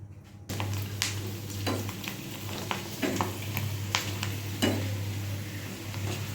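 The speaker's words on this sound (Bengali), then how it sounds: "তার সাথে ফাপড়া বেজে নিলাম" Fapra snacks frying in a pan with a steady sizzle and crackle, punctuated by occasional sharp clinks of a utensil stirring against the metal.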